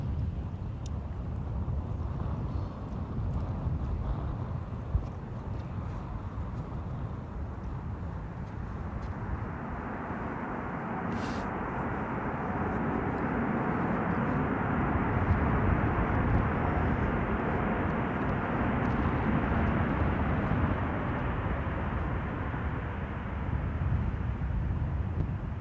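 A jet airliner takes off at London Gatwick Airport during Storm Bert, its engines a steady, broad roar that builds and holds for the whole stretch, heard from a distance and mixed with gusty wind noise, with no talking.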